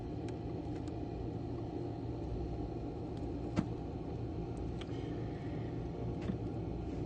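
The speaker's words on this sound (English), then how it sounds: "These engine sounds are synced" Faint, steady engine rumble from cars idling and driving in a video game, a continuous low drone with a few brief clicks and ticks over it, no voices.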